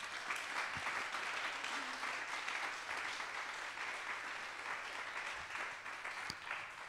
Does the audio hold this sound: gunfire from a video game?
no